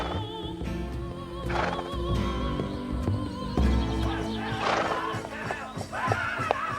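A horse whinnies several times over rhythmic hoofbeats as it gallops, the neighs rising clearly above a steady clip-clop and a soft musical backdrop.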